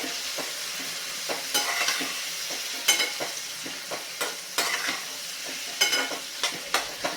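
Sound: cluster beans being mixed and frying in pan

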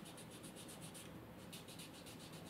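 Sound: sanding a cane reed blade with sandpaper

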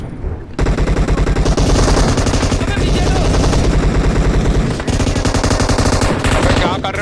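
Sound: machine gun fire in a battle royale video game

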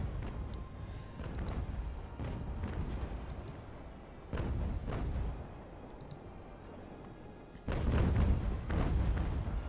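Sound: sailing ship cannon fire in video game Ultimate Admiral: Age of Sail

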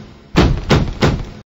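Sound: knocking on a door

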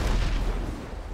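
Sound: fireworks exploding

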